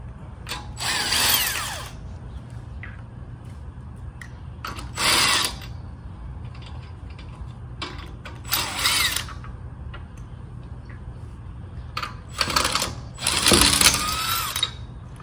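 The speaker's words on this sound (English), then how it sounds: "This impact gun is worth getting out just to save time." An impact gun rattles off the lug nuts on a 2016-2022 Honda Pilot wheel, coming in about five loud, chattering bursts of a second or so each, separated by quieter pauses with a low background hum.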